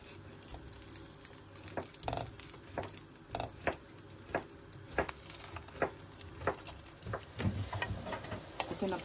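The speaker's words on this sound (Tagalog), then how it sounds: "Iprito ko na po ito" Pumpkin sesame balls with a mung bean filling fry gently in oil over low heat. A soft, steady sizzle runs throughout, broken by frequent small pops and ticking clicks, with no speech.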